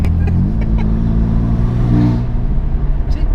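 A 550bhp BMW M4 with a decat exhaust accelerates hard over a blind crest on a narrow road, its loud rising engine note heard from inside the car, steady and close without talk.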